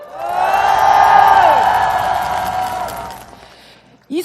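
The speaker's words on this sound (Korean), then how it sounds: "다시 한번 뜨거운 박수 보내주십시오." A crowd at a memorial rally for the Itaewon disaster victims cheers loudly with sustained shouts and whoops, then fades toward quiet before a brief burst at the end.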